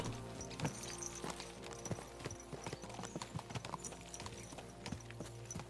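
Horses are ridden in the medieval game Kingdom Come: Deliverance 2, with steady, rhythmic hoof clip-clops on hard ground that continue throughout at moderate loudness.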